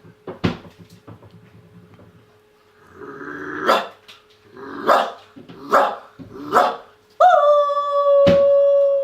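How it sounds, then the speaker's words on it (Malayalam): Two dogs fight, snarling and barking in sharp, close bursts, a scuffle of growls and yelps that ends in a sustained high-pitched whine. "രണ്ട് പട്ടികൾ തമ്മിൽ കടിയിടുന്ന ശ്രദ്ധിക്കുക."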